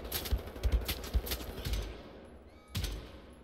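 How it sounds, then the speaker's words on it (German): Rapid automatic gunfire in the shooter game Wolfenstein: The New Order, a dense burst of loud cracking shots in the first two seconds, then a fading tail and one more sharp shot near the end. "So, ich schieße dir den Helm runter"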